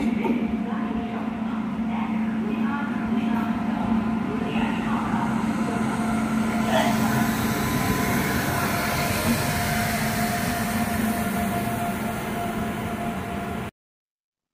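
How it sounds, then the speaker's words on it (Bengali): Santragachi SF Express pulling out of Santragachi railway station, a continuous low rumble and rolling drone of the moving train with steady broadband noise, fairly loud and unbroken until it ends abruptly. "তো ফাইনালি 2 ঘন্টা 40 মিনিটের দেরিতে আমাদের ট্রেন সাঁতরাগাছি রেলওয়ে স্টেশন থেকে ছেড়ে দিল"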